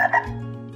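A single frog croak, a short raspy double pulse followed by a low sustained tail, close and fairly clear.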